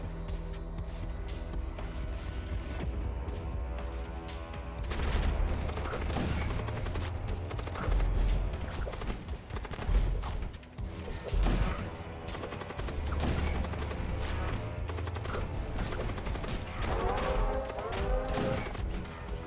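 Sustained rapid gunfire during a ship boarding fight in the sci-fi strategy game Void War, dense bursts and volleys layered over an ongoing game soundtrack, loud and continuous with heavier clusters of shots.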